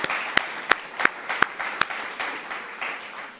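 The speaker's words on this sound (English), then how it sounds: "applause to Olgierd and to you, dear colleagues." Audience applauding at a conference, a few sharp individual claps standing out near the start over a steady wash of clapping that gradually thins and fades.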